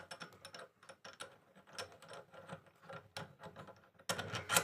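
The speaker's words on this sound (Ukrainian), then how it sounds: "Закручую в патрон." Crimping die being screwed into a drill chuck, giving quick ratcheting clicks and mechanical rattles throughout, with a louder, denser burst of clicking near the end.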